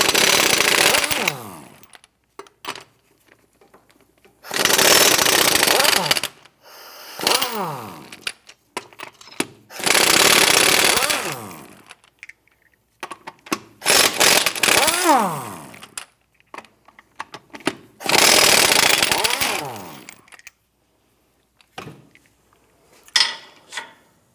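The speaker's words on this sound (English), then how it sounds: "Using a 21 millimeter socket, let's go ahead, loosen and remove these lug nuts." Impact wrench loosening and spinning off front wheel lug nuts on a 2008-2013 Nissan Rogue with a 21 mm socket, several loud rattling bursts of a few seconds each separated by pauses, close up.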